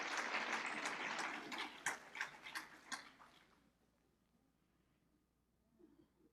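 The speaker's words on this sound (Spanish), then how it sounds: "Un aplauso." Applause from a congregation at a church session, a few seconds of dense clapping with some sharp individual claps that fades out, leaving near silence.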